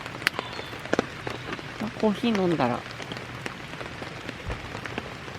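Steady rain patters on surfaces around a wet morning campsite beside a campfire, a continuous close hiss with scattered drops, while a person talks briefly over it.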